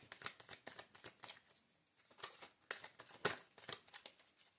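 Tarot cards being shuffled by hand, with repeated quiet riffling bursts and soft card flicks close up.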